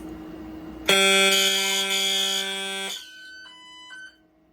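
A Silent Knight 6808 fire alarm system bell rings loud and steady for about two seconds during a test, then gives way to quieter intermittent electronic tones before falling silent.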